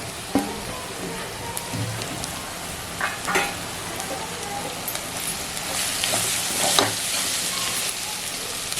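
Jackfruit vegetable with chutney and salt being stir-fried in a pan, a steady soft sizzle with scattered scraping and stirring clicks, close and continuous without speech.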